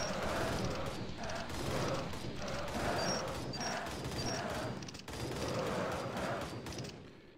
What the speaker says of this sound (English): There's the SMG, geez.